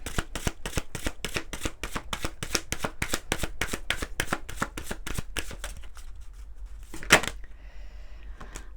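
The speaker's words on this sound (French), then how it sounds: "On va prendre une ou deux cartes de l'oracle des fées, donc de Dorine Virtue." Fairy oracle cards being shuffled give a fast, even run of crisp riffling snaps for about six seconds, close and clear, followed by a brief settle and a single sharper tap before quiet.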